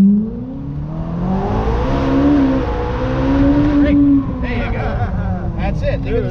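Short-stroke, high-revving car engine on a race track at a driving experience in Bridgewater, New Jersey, droning and rising in pitch as it holds second gear, loud and steady with a voice talking over it.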